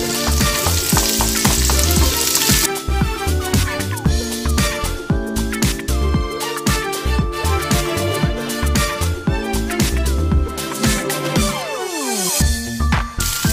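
Onion frying in a pan for pancit canton, a loud continuous sizzle broken by steady scraping and clattering of a utensil stirring against the metal pan.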